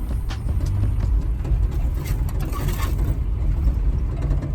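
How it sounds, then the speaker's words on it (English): Something loosened under a car driving a sandy track in Mabuasehube, Africa, clanks and rattles in irregular clicks over a constant low road and engine rumble. "I heard a strange clanking noise from under the car."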